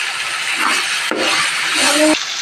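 Masala with ginger garlic paste sizzles and frys in a pan for a hotel-style chicken gravy, a steady close hiss broken by a couple of short scraping stirs.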